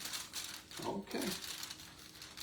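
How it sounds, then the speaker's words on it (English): Aluminum foil crinkles softly on a work surface during rib and brisket prep. A short, faint rustle sits in the middle under low background noise. "what I do is just put your foil down"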